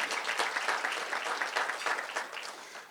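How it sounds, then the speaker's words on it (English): Applause from guests at a chamber of commerce luncheon, a soft brisk patter of many hands clapping that tapers off toward the end, heard from a slight distance. "Give them a round of applause."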